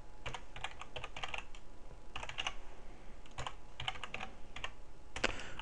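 Typing on a computer keyboard at a desk, quick clustered bursts of key clicks separated by short pauses, close and fairly quiet, with no talking.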